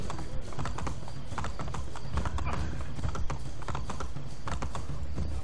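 Horse hooves clip-clopping at a steady trot in Assassin's Creed: Brotherhood, loud and close under continuous game ambience, with someone talking in Spanish over it.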